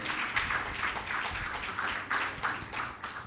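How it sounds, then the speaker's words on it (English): At a conference session, an audience claps in a moderate, somewhat uneven burst of applause, with individual hand claps audible in the wash of sound. "Let's have a round of applause just to start with some energy in the session."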